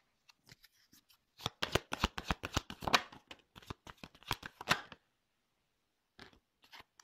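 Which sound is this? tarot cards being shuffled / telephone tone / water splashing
tarot cards being shuffled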